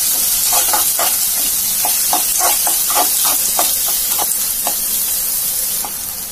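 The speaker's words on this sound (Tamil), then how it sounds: "வெங்காயம் நல்லா வதங்கிடுச்சு." Onions sautéing in a hot pan while cooking okra, a steady loud sizzle and hiss with a dozen or so quick spatula scrapes and stirs layered on top, easing slightly at the very end.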